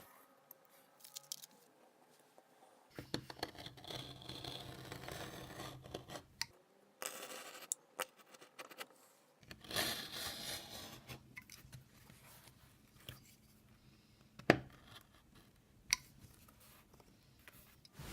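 Paper template pieces are cut out for a leather axe sheath during an axe restoration, giving intermittent close scissor snips and rustling paper with quiet pauses between bursts and no talking.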